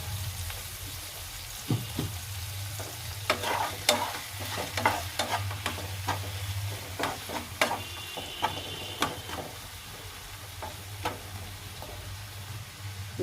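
Kidney beans frying in a pan with a little salt over a low steady hum, broken by a series of sharp scraping stir strokes and clinks at an irregular pace, close and moderately loud, with no talking.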